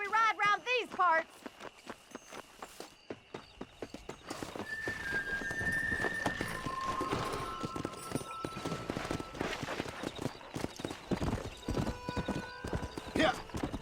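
Horse hooves clip-clop steadily at a walk during a ride in the Red Dead Redemption video game, a rhythmic run of close hoofbeats; a horse whinnies near the start, while talk and game sounds come through in the background.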